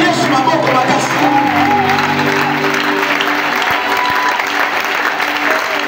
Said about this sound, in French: Acclame d'abord Jésus très fort.